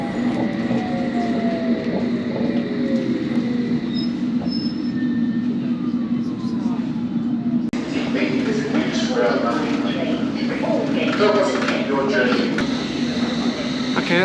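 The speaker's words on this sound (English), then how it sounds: "that's the train departing" A London Underground train pulls out of a westbound platform toward Westminster with a sustained rumble, a wheel squeal and a rising hum that shifts partway through. A voice talks over it close by.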